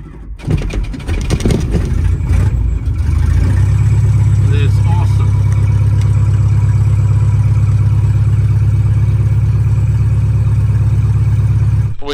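A Socata Rallye MS-880B light airplane engine cranks with uneven bursts, catches after a few seconds, and then holds a loud, steady, droning idle close by, with a voice speaking over it at times.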